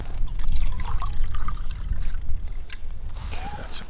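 Water is poured into a pot for Hungarian goulash at a campsite on Prewitt Ridge above the Big Sur coast, a close, burbling trickle and splash that fades slightly toward the end.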